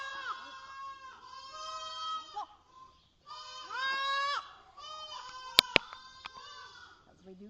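Baby goats bleat in several loud, wavering cries close by, separated by short pauses, with a few sharp clicks near the end.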